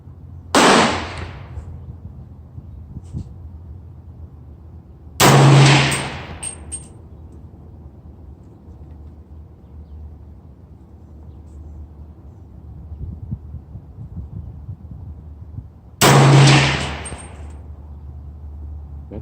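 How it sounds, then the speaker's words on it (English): Three sharp 300 Blackout rifle shots from an AR-15 at an outdoor range, loud and close, spaced several seconds apart, each followed by a brief echoing tail, with quiet background noise between shots. "next up is 300 blackout at 75 yards. I'm going to be shooting at the right upper target."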